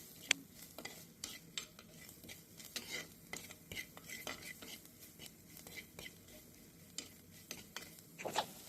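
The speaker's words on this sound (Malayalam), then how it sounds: "നന്നായിട്ട് വഴറ്റിയെടുക്കാം." Crushed garlic and spice powders being sautéed in a pan for a buttery mackerel curry, with quiet, steady sizzling broken by frequent scraping stirs and light utensil clinks against the pan.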